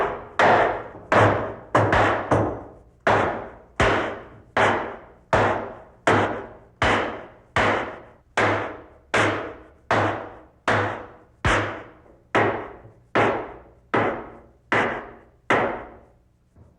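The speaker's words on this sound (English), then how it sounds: "we're toe-nailing in some 12-penny nails" Steady hammer blows drive 12-penny nails at an angle into a wooden post about once a second, each a loud sharp knock with a ringing decay, repeating for a long run without pause.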